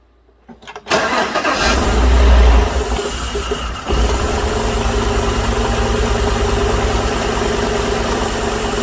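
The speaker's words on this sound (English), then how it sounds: "I'm going to start it up with the valve cover off" A 5.3-litre V8 engine in a 2017 GM truck, valve cover removed and misfiring with a ticking intake valve, cranks briefly, then catches and settles into a loud, steady idle with a rough, uneven mechanical chatter, close by.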